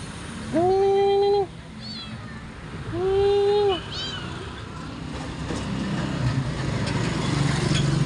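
Two loud, drawn-out meows from an abandoned kitten on a bridge, close by, followed by a rising rumble of a passing motor engine.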